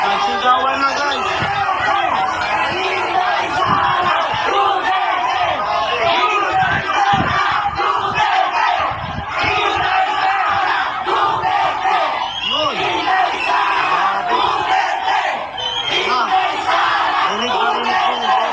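Supporters of Sara Duterte gathered at EDSA Shrine with police nearby, shouting and chanting together in a loud, continuous roar, with individual voices and yells rising out of the dense crowd noise.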